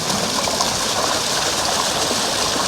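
Water pouring steadily from a pond water blade feature on a wall, a constant close splashing rush with no talk.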